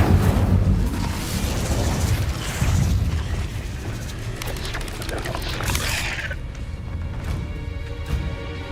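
Incendio fire spell cast in the Hogwarts Legacy video game, a loud, dense whooshing roar of flame with rumbling bursts that continues for several seconds before thinning out.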